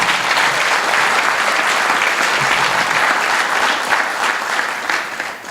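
Steady, dense applause from a community volunteer appreciation celebration audience honoring award recipients, sustained and fairly loud throughout, tapering slightly at the end with no voices over it.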